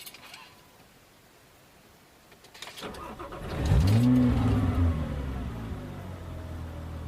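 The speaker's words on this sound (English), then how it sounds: "FabSpeed's tune startup seems to be much more aggressive than before." A Porsche Cayman S with a FabSpeed tune starts up: the starter whirs briefly, then the engine catches with a loud, close rev flare and settles into a steady, rumbling idle. No one speaks.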